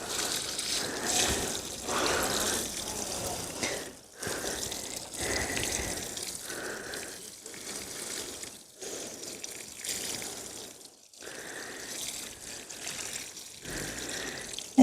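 Water pours and trickles steadily onto seedlings in a garden plot, a soft hissing, splashing flow that comes in repeated pours separated by short breaks, with no voices.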